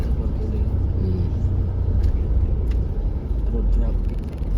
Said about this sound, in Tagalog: Road traffic.